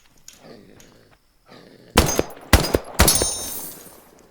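Three loud bursts of gunfire in the zombie game OutlawZ crack out in quick succession after a quiet stretch of soft background noise, the last burst trailing off with an echo.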